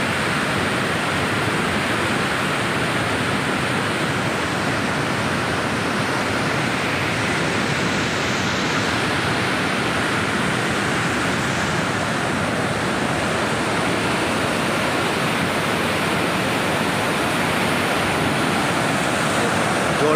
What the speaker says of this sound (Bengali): জলটা কীভাবে ভয়ঙ্করভাবে নিচে পড়ছে দেখুন আপনারা, দেখুন কি তার স্পিড